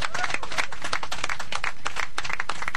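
A crowd gives a dense, steady round of applause to welcome Paralympian Iliesa Delana home to Fiji, with many hands clapping continuously and loudly throughout.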